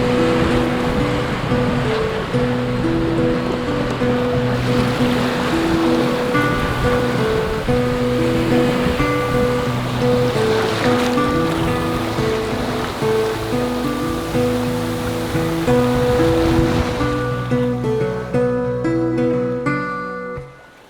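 A sailboat crossing the Pacific Ocean rushes through waves at six to seven knots in calm champagne sailing, a loud steady wash of water with layered tonal hums running throughout before fading out at the end.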